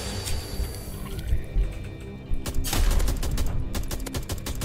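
Rapid gunfire from a SpongeBob video game, a dense run of popping shots that grows busier and louder partway through, layered over bubbly watery game sounds, with no voices.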